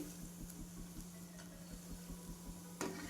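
Crispy potato and vegetable balls deep-fry over low gas in a pan of oil, a soft, even sizzle with faint rhythmic ticking and one brief clink near the end, and no talking.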